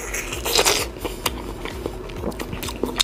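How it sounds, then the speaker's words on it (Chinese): Someone bites into a firm, underripe Sanya mango, close to the microphone: a crisp crunch followed by moist chewing and soft crackles. "我就简单尝一口啊，这个上面应该是没坏的"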